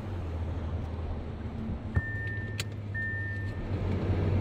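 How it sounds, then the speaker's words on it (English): Support car driving along a road during a cycling event, a steady engine and road rumble from inside or near the vehicle, with a brief high electronic tone and a small knock partway through. "So good to have a support car."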